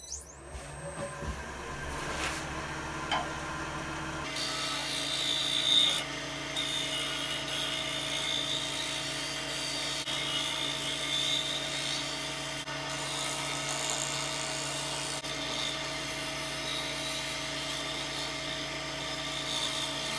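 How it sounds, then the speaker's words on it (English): Wood lathe spinning a bowl blank while a shear scraper cleans up the outside of the bowl, a steady loud droning whine with a continuous scraping hiss, close and without speech. "all I'm going to do now is just do a little bit of shear scraping on the outside to clean it up"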